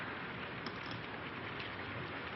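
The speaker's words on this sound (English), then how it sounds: "It's this rain, I guess." Steady rain falls continuously, a dense, even hiss with no clear individual drops, heard as an indoor backdrop in a 1932 American pre-Code drama.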